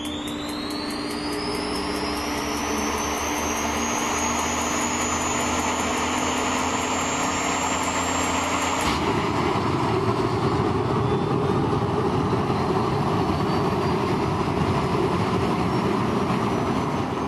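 A 1,450-horsepower jet engine mounted in the back of a VW Beetle spins up with a rising turbine whine that climbs steadily, then settles into a loud, continuous roar with a broad rushing blast.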